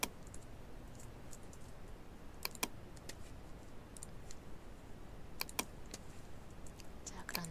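Computer keyboard keys pressed for copy and paste shortcuts in Photoshop, faint scattered clicks in small clusters against a quiet background, with no talking.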